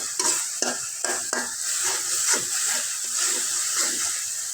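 Masala spices for a Bengali beef tripe (bot) bhuna fry in a pan, with a steady sizzle broken by repeated scraping strokes of a spoon stirring close by, no voices.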